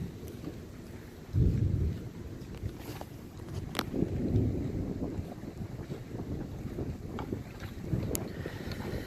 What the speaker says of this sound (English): I had thunder. I love it.